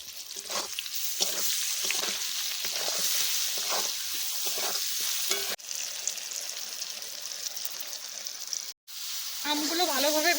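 Rohu fish pieces frying in hot oil seasoned with salt, turmeric and a little chili powder, a steady close sizzle with intermittent stirring scrapes, a brief pause, then a voice near the end.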